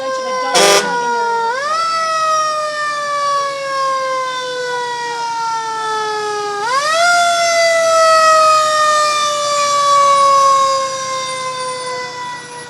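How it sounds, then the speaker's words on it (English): A loud wailing fire engine siren at a Fourth of July parade in Edmonds rises and falls in long sweeps, close by, with a brief horn blast at the start. "I love those sirens."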